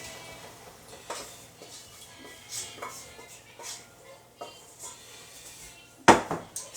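Dry beans clatter into a metal cooking pot: a few soft taps and rattles, then one sharp, louder clatter near the end, with quiet kitchen background.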